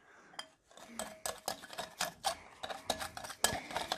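Dalgona coffee mixture whisked by hand like beating egg, giving a run of quick, close clinks and taps of utensil against a bowl in uneven bursts, with no talking.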